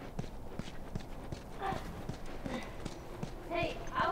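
Horse hooves clip-clop steadily at a walking pace in The Last of Us, sitting fairly close in the game soundscape beneath someone talking.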